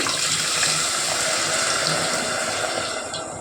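Dissolved tamarind water poured into a pan for a South Indian dish, a loud close gush of liquid that holds steady and then tapers off briefly, with no voices.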